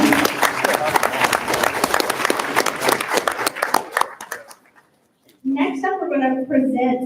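Clapping fills a school board meeting for a group of students, a busy patter of hands that thins and stops midway; after a short silence a person starts talking.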